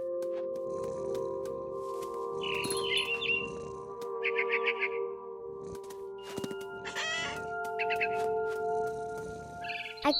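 Bird chirps and clucking calls in the What Remains of Edith Finch video game, set in a big tree: repeated short bursts over a steady tonal hum and soft ambient background.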